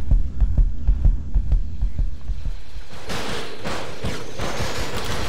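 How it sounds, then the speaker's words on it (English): Low-health heartbeat effect in Star Wars Battlefront 2, Clone Wars mod on the Felucia map: steady low thumps pulse for about two seconds, then give way to a dense wash of battle noise and distant gunfire. "there's the heartbeat because I have low health"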